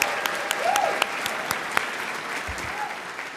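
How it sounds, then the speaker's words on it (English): An audience at the BAFTA Scotland Awards claps steadily for a few seconds, with a few sharper claps standing out over the dense patter. "Applause here, please."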